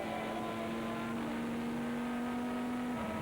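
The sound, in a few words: Ferrari GT race car driving on track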